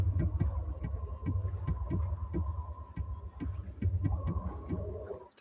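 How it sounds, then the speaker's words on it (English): Morse code beeps from a mysterious hatch in GTA Online, rhythmic short and long tones heard under a low droning hum and dull thumps, moderately close and steady. "If you get close enough to this hatch, you can hear some Morse code."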